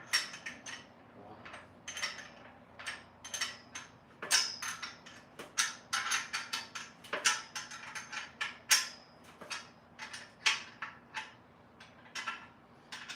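Top bolts of a Bongkim pull-up bar being tightened produce quiet, irregular metallic clicks and ticks in short rhythmic bursts, with faint creaks between them.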